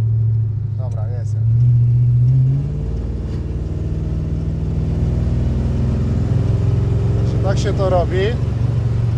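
A Plymouth Sport Fury V idles with a steady deep rumble, then revs briefly and pulls away, the engine droning on close by while people talk over it.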